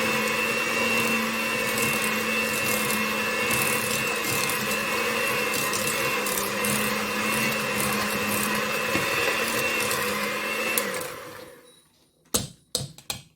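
An electric hand mixer whirs steadily while whisking sugar into a mixture in a bowl for red velvet cookies, a continuous close buzzing that cuts off near the end, followed by a few clatters.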